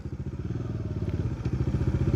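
Car engine in a driving-school manual car revving steadily as the clutch is let out step by step, a close, loud, pulsing low drone with a regular throbbing rhythm throughout, no talk over it.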